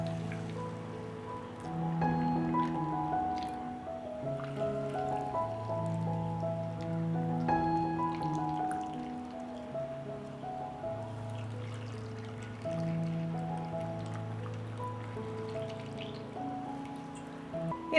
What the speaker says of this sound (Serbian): i zatim ću napuniti tegle sa vodom.